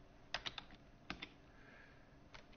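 A handful of separate clicks on a computer keyboard, a couple of quick taps followed by isolated keystrokes, faint and close against a quiet room, with nobody talking.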